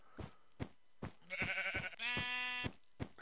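Sheep in Minecraft bleat twice in quick succession, the second call a longer, tonal wavering baa, both standing out clearly over a steady rhythm of soft knocking footsteps.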